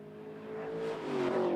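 A small classic Lotus race car engine at a Scottish club circuit race, a steady droning tone that swells louder and rises slightly in pitch as the car approaches along the main straight.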